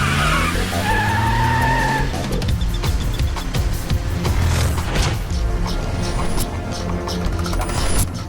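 Car tires screech loudly in a sustained skid as the car swings around in an Indian action film, with engine roar and a dense, rumbling mix throughout.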